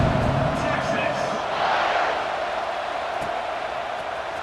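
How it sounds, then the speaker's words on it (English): Cheering from a football stadium crowd in EA Sports College Football 26 swells loudly during a kickoff and then eases to a steady roar, with commentary spoken over it. "this crowd is feeling themselves after that last drive"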